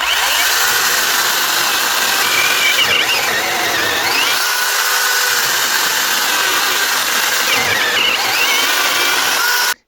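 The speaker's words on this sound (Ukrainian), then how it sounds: "подивимося, чи взагалі буде працювати пилка ProCraft з акумуляторами з Аліекспресу" A Procraft PKA42Li cordless saw cutting through logs, running loud and close with a continuous high whine and chain rasp that dips briefly as the cut load changes, then cuts off at the end.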